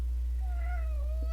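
A single cat gives one short, slightly rising meow, close and clear over a low steady hum.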